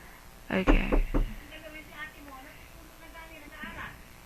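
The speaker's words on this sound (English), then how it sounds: "My brother just knocked." A few sharp knocks on a door at home, three or four quick raps close by, followed by faint voices talking in the background.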